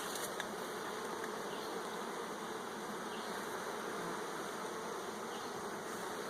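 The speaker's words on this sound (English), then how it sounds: "There's a yellow jacket." Steady insect buzzing near a beehive, with a yellow jacket wasp among the bees, holding a constant drone throughout with no talking.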